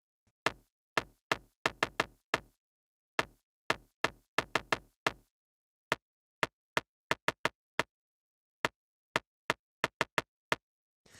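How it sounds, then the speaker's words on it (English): Short, tight, clicky kick drum hits play in irregular rhythmic bursts, each cut off sharply with no tail, loud and isolated. "the decay of the original kick sample"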